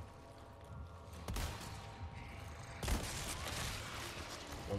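Gunshots ring out in Resident Evil 4 Remake, two sharp loud reports about a second and a half apart, each followed by a noisy, echoing tail over a dense game soundtrack.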